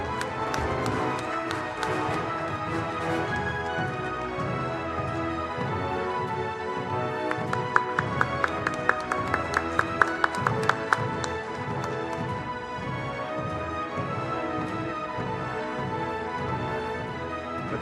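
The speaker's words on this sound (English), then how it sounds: "A loud round of applause, ladies and gentlemen." A summit audience applauds as former Australian Prime Minister Tony Abbott is welcomed. Dense, sustained clapping fills the hall with a loud, steady texture and a faintly rhythmic pulse throughout.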